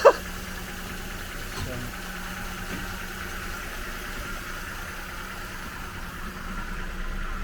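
A 1939 Rover Tickford 20 drophead, revived after sixty years, idles with a steady low mechanical hum and faint vibration, moderately near, after a sharp knock at the start.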